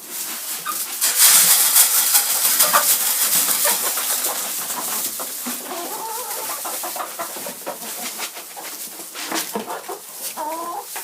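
Hens and a rooster clucking and calling inside a henhouse at feeding time, busy layered bird calls close by with occasional louder squawks, no talk.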